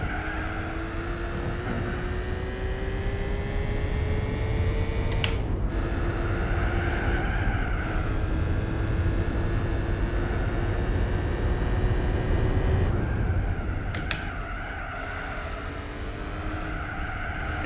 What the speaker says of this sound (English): It's a pity that this car doesn't have a more epic sound.